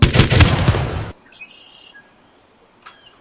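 Crossbows are fired at once, a loud, abrupt burst lasting about a second that cuts off sharply, followed by quiet outdoor air with faint chirps.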